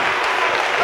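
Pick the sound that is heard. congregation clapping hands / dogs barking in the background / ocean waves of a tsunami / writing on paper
congregation clapping hands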